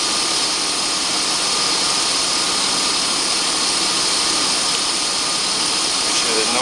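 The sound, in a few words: car engine running while bleeding radiator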